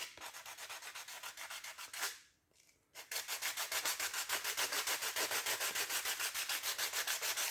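Steady, rhythmic sanding strokes on a plastic mirror backing plate from a Honda ST1100 motorcycle, close and loud, rasping back and forth at an even pace, with a brief pause before the scrubbing resumes.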